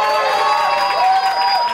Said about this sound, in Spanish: Aplauso para Milena